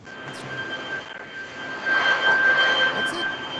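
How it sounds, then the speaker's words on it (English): Leaf blower running outdoors, a steady whining engine drone with a thin high tone that swells louder midway, heard at moderate distance. "It's a leaf blower."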